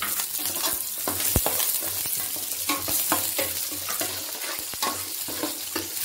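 Curry leaves and onion pieces fry steadily in a pan with a loud, continuous sizzle and crackle. Sharp spatula scrapes and taps repeat throughout, and no one speaks.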